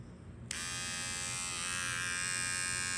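A ten-year-old Remington beard trimmer switches on after a half-second of quiet and keeps running with a steady, close, high-pitched electric buzz.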